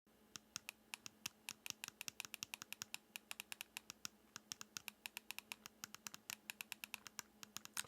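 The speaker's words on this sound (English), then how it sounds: "typical clicky bumpers" Shoulder bumpers on two handheld gaming devices, a Retroid Pocket 5 and an Anbernic RG406H, clicked over and over in a quick, steady run of sharp plastic clicks. The sound is close-up and continuous, with no talking.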